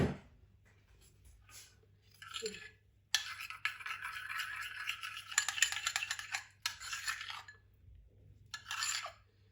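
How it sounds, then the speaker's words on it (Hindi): A spoon whisks an egg mixture in a bowl, giving close, scratchy scraping and light clinks in steady bursts, with brief pauses between rounds of stirring. "और इसको अच्छी तरह हम मिक्स कर देंगे।"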